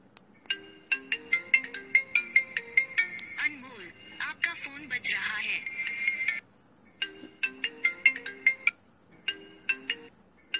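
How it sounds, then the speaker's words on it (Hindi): A custom name ringtone on a phone plays a bright, repeating chiming melody with a sung voice in the middle section, loud and close, pausing briefly before the chimes return. "आपके नाम का बहुत सारा रिंगटोन यहाँ पर शो होगा दोस्तों"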